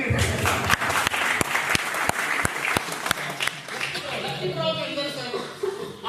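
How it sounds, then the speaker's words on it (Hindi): Audience applause breaks out at a business seminar in Delhi, starting with scattered sharp claps and swelling into dense clapping, with chuckles and chatter mixed underneath. "ताली"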